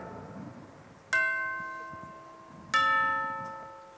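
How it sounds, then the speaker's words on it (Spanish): Two resonant church bell tolls ring out about a second and a half apart, each struck loud and left to decay slowly, used as a stage sound effect in an amateur theatre production of Don Juan Tenorio. "Las campanas por ti doblando están"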